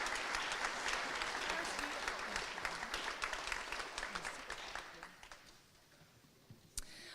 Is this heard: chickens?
no